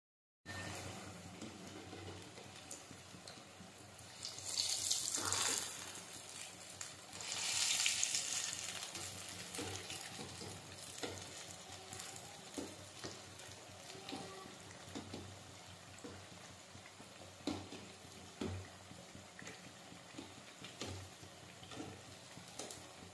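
Lentil pakoras (dal pakode) fry in hot oil in a home kitchen, a soft continuous sizzle with a few louder bubbling swells and occasional stirring clicks, heard close with no talking.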